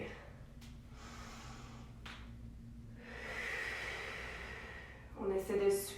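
Deep breaths drawn in and let out during a prenatal yoga session, a long inhale and exhale with soft background hiss, followed by a brief burst of rustling or voice near the end.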